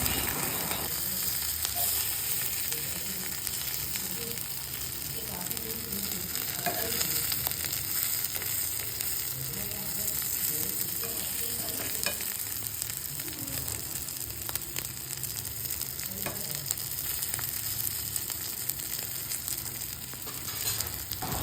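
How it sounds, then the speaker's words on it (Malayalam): Chicken pieces with curry leaves sizzle steadily in a hot pan, with occasional scrapes and clinks as they are stirred and turned, a continuous close frying hiss with no talking. "ഇതുപോലെ മൊരിയുന്നത് വരെ തിരിച്ചും മറിച്ചും ഇട്ട് നന്നായി പൊരിച്ചെടുക്കുക"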